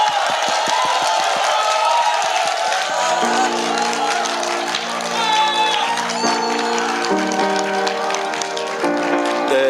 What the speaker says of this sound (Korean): 뜨거운 박수와 함성 부탁드리겠습니다.